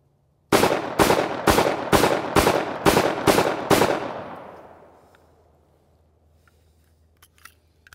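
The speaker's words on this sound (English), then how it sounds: "load this gun. It's got 8 shots in it, and we're just gonna light up this target" A Hi-Point C9 9mm pistol fires eight quick shots in a steady rhythm at a target, each report loud and sharp, then the echo dies away into quiet.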